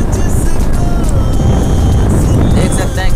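A TVS Raider motorcycle rides along a national highway near Nandigram, and its steady engine drone and wind rush fill the clip loudly and close up while speech is mixed in.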